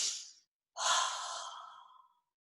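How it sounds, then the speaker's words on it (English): A slow, deep breath during a guided relaxation exercise: a soft airy inhale, a brief pause, then a longer breathy exhale that fades out, close and quiet with no talking. "Take another nice deep breath."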